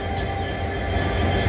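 A train locomotive stands close by at a station during an engine change, its steady, loud, broadband rumble and hum running continuously without a break.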